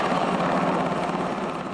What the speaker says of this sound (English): The sound of Border Patrol helicopters flying overhead